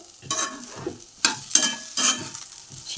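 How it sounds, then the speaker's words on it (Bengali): Potatoes and eggplant frying in a pan while being stirred, giving repeated bursts of scraping and sizzling that come and go in an uneven rhythm, close and fairly loud with no talking. "আলু বেগুন দুটোই ভাজা হয়ে গেছে"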